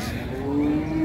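A brief, sustained moo from a Holstein Friesian dairy cow at a busy Rajshahi cattle market, loud and close over a murmur of background noise.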